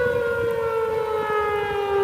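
A tornado siren wails in one steady, loud sustained tone over rumbling background noise during a flooding storm.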